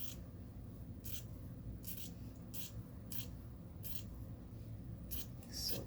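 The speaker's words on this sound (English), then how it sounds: "let's cut this open because we're going to add this fabric on this outside of this sleeve" Scissors snip through a fabric sleeve to cut it open: a series of about eight short, crisp cuts at an uneven pace, faint but close, with no voices.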